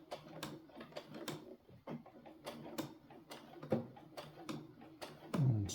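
A sewing machine stitches through bias tape on a vest, with rapid, rhythmic mechanical clicks and thumps repeating at close range, quiet overall.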